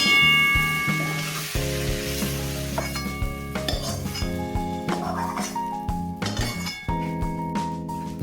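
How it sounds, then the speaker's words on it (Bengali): Green chillies and onion hit hot oil in a wok, sizzling steadily up close while a metal spatula clinks and scrapes against the pan in irregular strokes. "আবার তেল দিয়ে দিচ্ছি কড়তে গরম হয়ে গেছে কাঁচা লঙ্কা দিলাম ফোড়নে পেঁয়াজ দিলাম"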